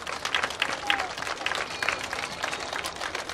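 Audience applause at a high school graduation ceremony, a lively mass of clapping with scattered cheers and crowd voices mixed in, steady throughout.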